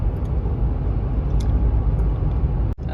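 A Maruti Suzuki Alto K10 cruises at 80 in fourth gear on a highway bypass, its cabin filled with a steady low road and engine rumble that briefly cuts out near the end.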